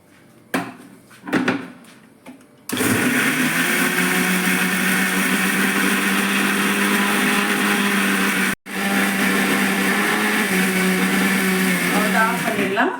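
A kitchen mixer grinder whirs loudly while grinding soaked raw rice, lentils and chillies with water, a steady motor roar with one brief cut-off partway through, preceded by a few quiet bumps and some talk.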